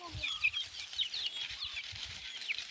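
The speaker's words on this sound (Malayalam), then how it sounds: "നമ്മുടെ കോഴിയും കുഞ്ഞുങ്ങളും അവിടെ തന്നെ ഇരിപ്പുണ്ട് കേട്ടോ." A hen with her chicks clucks softly nearby while high, thin chick peeps chirp repeatedly over a quiet outdoor background.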